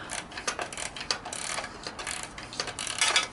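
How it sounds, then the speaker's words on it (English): A tiny ratchet clicks in quick, close bursts while it tightens bolts on a Honda CT110 motorcycle's foot pegs and stand, with the ratcheting pawl rattling in short repeated runs. "luckily I've got this tiny ratchet"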